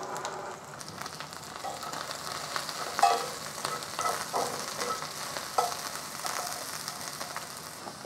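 Onions and ginger fry in a pan with a moderate, continuous sizzle, punctuated by scraping stir strokes and small clatters.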